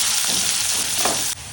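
Onions sizzle loudly in hot oil in a home kitchen as the base for a mutton curry, a dense steady frying hiss that stays close and constant for the whole moment.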